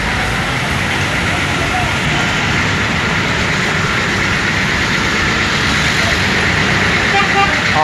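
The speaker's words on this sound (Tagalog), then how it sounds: "mga jeep papunta ng Pedro Hill" Dense, steady roar of jeepneys and street traffic at a busy jeepney terminal near Lagusnilad in Manila, engines idling and passing continuously at close range with no break.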